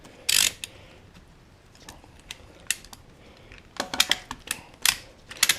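A restored motorcycle jack raising a Kawasaki Versys X300, giving faint irregular ratcheting clicks and mechanical clatter, with scattered sharp ticks that grow busier toward the end.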